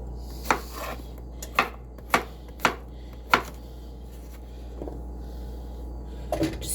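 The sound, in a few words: chopping food on a cutting board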